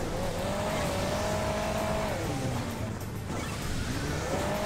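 Engine of a light car in the Hill Climb Racing 2 video game, a steady synthesized motor tone that rises and dips as the driver eases off and brakes, loud and continuous throughout with no talking.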